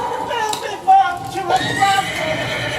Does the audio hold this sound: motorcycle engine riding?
no